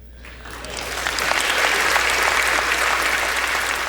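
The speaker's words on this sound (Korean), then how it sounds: "민주당, 공화당 정치인들이 모두 yes 하면서 박수를 쳤죠" Democratic and Republican politicians applaud together in the chamber as a shot congressman returns, a dense crowd ovation that builds over the first second and stays loud and full.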